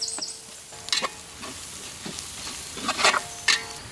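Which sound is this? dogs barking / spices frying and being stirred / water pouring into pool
spices frying and being stirred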